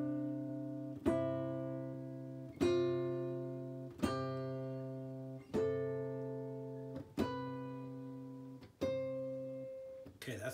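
A synthesizer sounds a pure, just-tuned major interval built on C for microtuning, repeated as six sustained chords, each struck cleanly and then fading slowly, steady and close with no talking over them.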